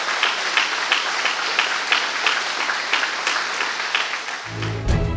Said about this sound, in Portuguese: Despeça do amigo em casa aplaudindo a Jesus.